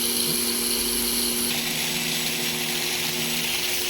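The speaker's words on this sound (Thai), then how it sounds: "ฉีดล้างทำความสะอาดหม้อน้ำให้นะครับ" Steady, loud hissing water spray cleaning a Toyota Vios car radiator, with a constant mechanical hum underneath, continuous throughout with no pauses.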